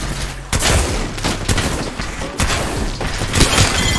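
Gunfire in the video game Overwatch, with rapid bursts of loud, dense shots and several sharp onsets stacked over continuous game noise and thumps.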